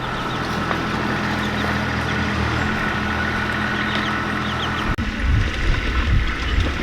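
A tractor works in a barnyard, its engine droning steadily at mid distance, then a brief break followed by rougher, uneven rumbling and clanking as the load shifts.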